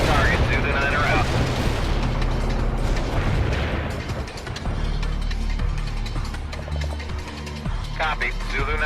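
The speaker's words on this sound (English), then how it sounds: "Zulu Niner firing mortars" Mortar fire and heavy explosions in the video game World in Conflict, a dense rumbling barrage of booms and blasts running continuously and loudly, with in-game radio voices talking over the combat.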